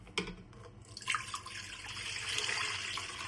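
Water pours into a pot, a rising splashy gush that grows fuller and steadier over a few seconds, close and alone.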